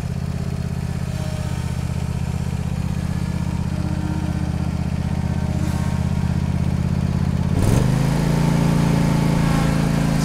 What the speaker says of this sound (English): Cub Cadet Zero Turn. This thing works perfect.